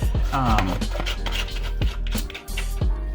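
Spoon scraping and dragging a cheesy cornbread layer over a chicken tamale casserole with creamed corn, with repeated rubbing scrapes and light clinks against the dish, loud and close.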